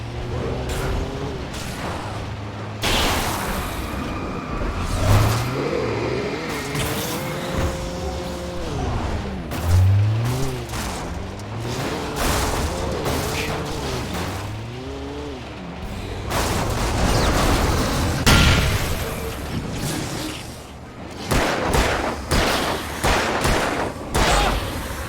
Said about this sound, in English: Car's gonna blow.